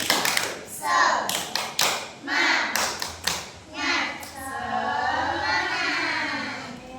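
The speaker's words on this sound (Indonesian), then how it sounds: "Kita tepuk semangat dulu." Children in a classroom beat out a rhythmic spirit clap, sharp irregular bursts of claps and taps mixed with their chanting voices, followed by a sustained group vocal at the end.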